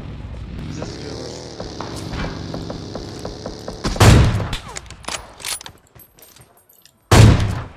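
Gunfire in PUBG Mobile: a low in-game hum gives way to loud, close bursts of shots around the middle and again at the end, with sharp rattling impacts between them.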